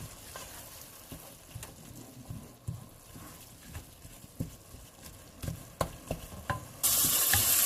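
Ground beef browns in a frying pan as a faint, continuous sizzle, broken by repeated scraping and knocking of a utensil stirring the meat, with a louder hiss toward the end.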